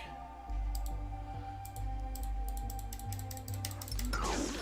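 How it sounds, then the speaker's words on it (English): Rapid computer mouse clicks during play of the video game Lego Legacy, a steady run of sharp close clicks over game music and effects, ending in a brief burst of noise. "I'm sure you can probably hear my clicking there."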